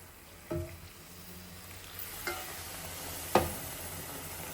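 Semolina halva mixture of flour and milk being stirred in a pan, a few sharp spoon knocks against the metal over a low steady cooking hiss, close by and without speech.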